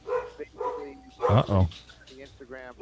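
A dog barks several times in short bursts close by, mixed in with ongoing speech from people talking during a live police chase broadcast.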